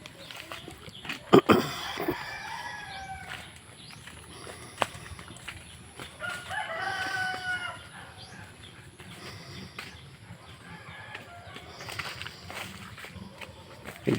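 Roosters crow outdoors near a house, a few drawn-out calls at moderate distance over scuffing footsteps and low ambient noise.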